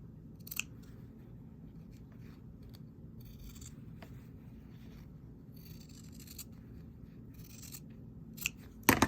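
Scissors cutting through fabric binding on a quilt, soft scattered snips and rustling close by, ending with a couple of louder crisp cuts.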